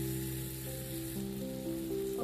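Indian masala frying in a pan with curry leaves while making Maggi noodles, a steady close sizzle running throughout with no talking.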